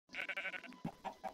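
A sheep in the video game Minecraft bleats in a short run of nasal, wavering cries that follow one another quickly, close and clear with nothing else behind them.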